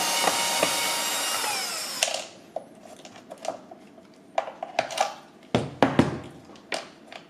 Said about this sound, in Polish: Ta też pójdzie wkrętarką.